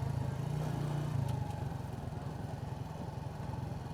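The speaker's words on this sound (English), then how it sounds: "Too much rattling going on the bike." A motorcycle rides over rough unpaved streets in Gihosha, Bujumbura, Burundi, its engine droning steadily with a rattling vibration running underneath throughout, close and continuous, with no voices.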